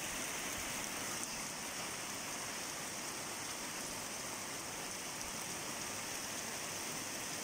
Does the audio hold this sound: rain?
yes